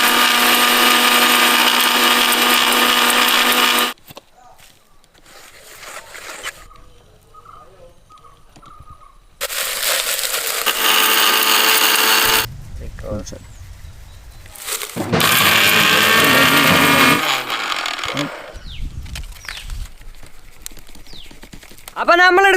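An electric mixer grinder pulverises dry leaves into powder, whirring loudly in three separate runs of several seconds each. Quieter handling noises and shuffling fill the gaps between runs.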